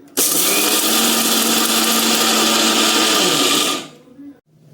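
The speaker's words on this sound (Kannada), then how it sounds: "ಈಗ ಮಿಕ್ಸಿ ಆನ್ ಮಾಡ್ಕೋತೀನಿ" A kitchen mixer grinder powdering roasted peanuts whirs at a steady, loud, high-pitched roar for nearly four seconds, then winds down and stops, with no speech over it.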